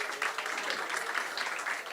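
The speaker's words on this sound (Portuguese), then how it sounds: "Uma salva de palmas para Thaís, pessoal." Audience at a Rio de Janeiro energy and sustainability startup event applauds a speaker, with even, continuous clapping heard faint and distant throughout.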